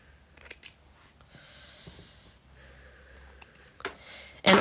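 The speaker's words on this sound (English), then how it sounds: "I'm just going to trim back the overlock thread." Scissors trimming overlock thread from the leg hem of sewn leggings, a few small close snips and fabric rustles, quiet and sparse, ending in a louder handling noise.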